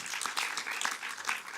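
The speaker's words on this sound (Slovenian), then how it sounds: "in še aplavz smo dobili." Brief burst of audience applause at a Kinemax event, a dense spread of clapping that swells and dips over under two seconds, moderately close with no voices on top.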